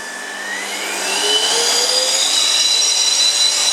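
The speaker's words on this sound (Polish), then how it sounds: "Podkręcę moc, moc maksymalną, ten odkurzacz ma moc do 1600 W." A Zelmer Aquawelt 919 1600 W vacuum cleaner runs at maximum power while washing upholstery, a loud close motor whine that rises in pitch and then holds a steady, shrill roar with no talking.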